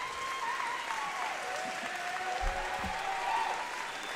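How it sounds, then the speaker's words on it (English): Steady audience applause fills a commencement ceremony hall, a dense wash of clapping from a large crowd that holds at an even level throughout, with no voices standing out. "got to clap."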